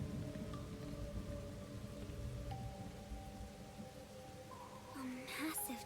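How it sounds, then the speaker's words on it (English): Rain falling in the video game Master Detective Archives: Rain Code, a steady soft hiss under a low droning game soundtrack, with a brief brighter splash near the end. "This is where the rain's coming from."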